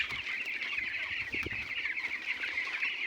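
Twelve-day-old broiler chickens cluck steadily throughout, a dense flock chorus with many overlapping calls at a constant, fairly loud level.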